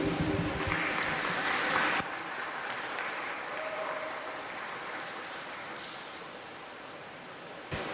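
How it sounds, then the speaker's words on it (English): Audience applause at a senior school graduation ceremony, a steady broadband wash of clapping that is loudest in the first two seconds, then continues at a slightly lower, even level until the end. "let's give him another round of applause for his outstanding contribution"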